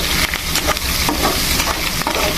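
Crushed raw onions fry loudly in a pan for an amaranth leaf curry, a dense close sizzle with occasional stirring rustles.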